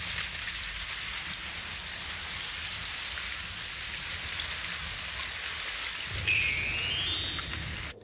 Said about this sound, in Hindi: जब बादल बहुत ज्यादा ठंडे हो जाते हैं तो बारिश होने लगती है